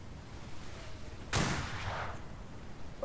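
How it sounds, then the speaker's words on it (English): Small-arms fire during a pirate ship battle in a naval video game, a single loud, sharp report that decays over a second against a low background rumble, with no talking. "They're shooting small arms."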